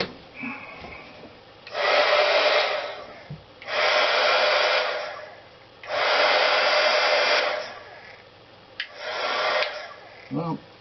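An HG-300D heat gun just back from repair blows in three long bursts of broadband airflow, each a couple of seconds, with quiet gaps and small handling clicks between, then a shorter final burst.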